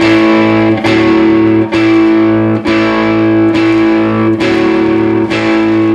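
A distorted electric guitar plays a riff twice, its thick, gritty chords sustaining through steady repeated strums with brief dips between, loud and unaccompanied.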